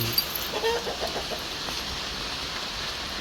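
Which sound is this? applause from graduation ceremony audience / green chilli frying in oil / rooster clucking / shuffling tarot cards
rooster clucking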